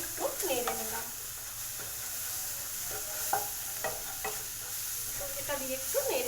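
Egg bhurji seasoned with Maggi masala sizzling steadily in a pan, with repeated scraping stirs at an uneven rhythm and a few faint voice-like sounds under the continuous hiss.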